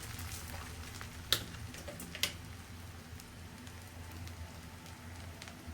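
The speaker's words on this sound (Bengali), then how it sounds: "সরিষার তেলে যখন আপনি পেঁয়াজটা ভাজবেন তখন এরকম কিন্তু একদম ফেনা হয়ে যায়" Onions fry and foam in hot mustard oil with a soft, steady crackling sizzle, faint and close, broken by a couple of sharp pops.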